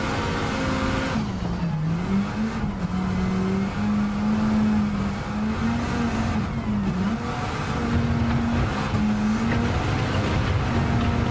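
A Volvo race car engine in Gran Turismo 7 revving loudly and steadily through corners, pitch dipping and rising as it brakes and accelerates, continuous and close with no talk.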